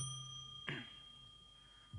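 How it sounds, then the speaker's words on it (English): A single bell ding marks the presentation time at an academic conference session, one short, bright strike that fades quickly over a steady background hum. "I will ring the bell once."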